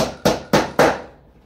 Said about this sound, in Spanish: primer martillazo que me pego en mi vida